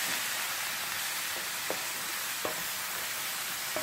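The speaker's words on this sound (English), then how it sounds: "Give that a stir" Whole tomatoes and chickpeas cooking in a pan, stirred while they fry with a soft, continuous sizzle and a few faint scrapes and clinks of the utensil.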